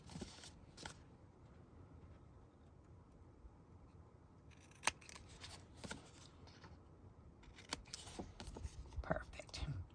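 Scissors trim fabric binding strips for a quilt in a series of soft, close snips and rustles, irregular and fairly quiet, with a few sharper cuts and a hushed voice audible at times.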